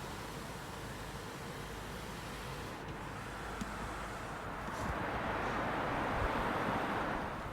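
Steady broadband wind rush from an opened roof vent in a moving Mercedes-AMG, a constant airy roar that swells louder toward the end, with no talk.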